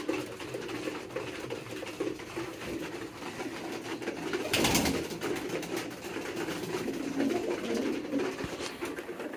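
A domestic pigeon coos softly and repeatedly close by in a loft, the low throaty calls running through steady background noise with one brief louder rustle midway.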